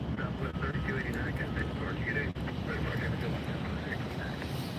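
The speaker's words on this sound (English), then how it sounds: "We have United making the turn onto the runway." United airliner taxiing onto the runway at Tampa Airport, a steady distant jet engine whine and rumble, with talk over it.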